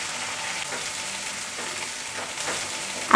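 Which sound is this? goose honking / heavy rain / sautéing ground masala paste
sautéing ground masala paste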